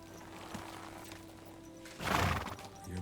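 A horse in the medieval video game Kingdom Come: Deliverance II lets out a short, fairly loud neigh near the end, over quiet game ambience and a faint hoof step.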